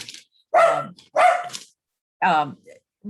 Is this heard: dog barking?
yes